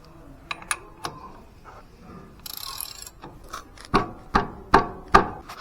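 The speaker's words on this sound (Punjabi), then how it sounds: "ਲਓ ਜੀ ਜਾਮ ਕਰਦਾ ਆਪਾਂ ਹੁਣ ਇਹ ਬੋਲਟ ਕੱਸਦੇ ਆ" A wrench tightens a bolt during a service of a Royal Enfield Bullet 350, giving a few light metallic clicks followed by four sharp, evenly spaced ratcheting knocks, close and clear.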